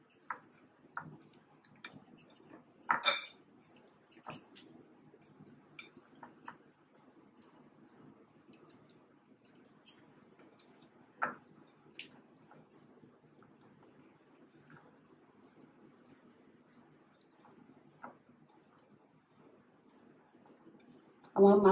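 Fish heads being mixed by hand with salt and turmeric, soft faint squishy clicks and taps scattered irregularly through near silence, with a sharper clatter near the end.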